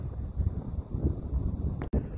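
Cold wind buffets the microphone on a sunny outdoor walk at the Corniche, a low, uneven rumbling that swells and fades in gusts, close and fairly faint, with a brief dropout near the end.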